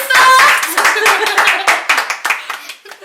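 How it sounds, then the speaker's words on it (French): A small group claps by hand to applaud the winner of a cotton challenge game, close and loud, with irregular bursts of claps that gradually thin out and slow toward the end. "On applaudit."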